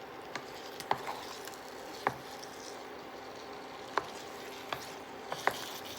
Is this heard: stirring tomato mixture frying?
yes